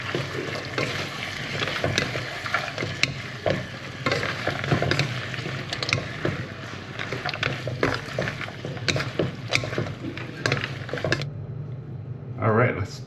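Cashews and green onion stir-fry in a hot pan for spicy Thai cashew chicken in Hua Hin, Thailand, a continuous close sizzle with scraping and clatter that cuts off near the end, with talking over it.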